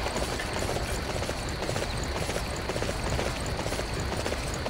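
Horse hooves clip-clop in Dynasty Warriors 9, a fast, steady galloping patter running continuously under a dense wash of game ambience, with no speech.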